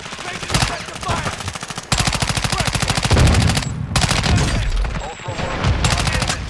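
Sustained machine-gun fire in the video game Call of Duty, loud rapid bursts that pause briefly, with heavier booming shots mixed in and voices talking over the shooting.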